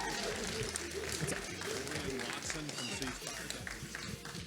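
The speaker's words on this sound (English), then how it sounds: "one last big applause for your champions, the Biloxi Indians" A crowd applauds the Biloxi Indians, champions of a high school Rocket League championship, with clapping and cheering running throughout beneath a voice talking over it.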